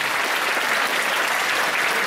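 Full, even applause from an audience seated in a hall at a school music video premiere, a continuous wash of many hands clapping at a constant loud level.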